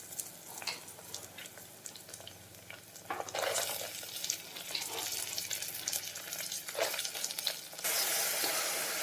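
Soaked rajma beans tipped into a hot pan over a medium flame for rajma masala curry, a steady close sizzle with scraping stirs swelling in waves and a louder hiss at the end, no talk.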